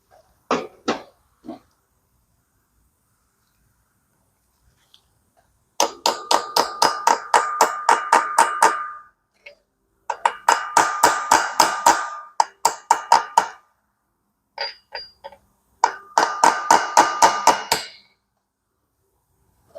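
A socket tapped against a clutch pilot bearing to drive it into place, bursts of rapid light metallic taps in several runs separated by pauses, close and crisp.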